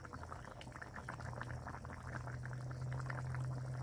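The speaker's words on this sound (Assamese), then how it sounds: "গাহৰি ঠেং। ধুনীয়াকৈ উতলি আছে" Pieces of pork leg simmer in a pot, giving a close, continuous bubbling and burbling that builds slightly louder over a few seconds, with no one speaking.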